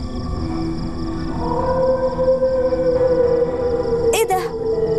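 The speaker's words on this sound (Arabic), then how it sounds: "إيه الصوت ده؟ ده صوت ديب." A cartoon wolf gives a drawn-out, wavering tonal howl that swells in the middle over a busy background. A brief sharp sound cuts in near the end.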